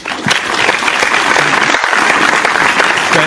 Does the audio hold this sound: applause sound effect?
yes